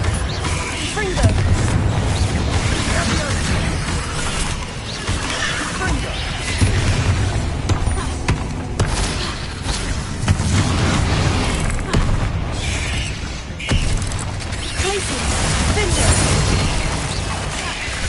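Repeated Confringo blasting-curse explosions in the video game Hogwarts Legacy, booming thuds and crackling bursts recurring every few seconds over mechanical clatter, with game voices talking throughout.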